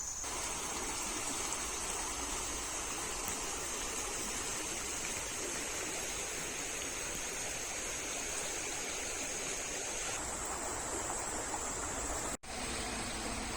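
Steady rushing water of a river in Pisgah National Forest, like flowing over rocks, constant and fairly loud with no voices, ending with a brief click.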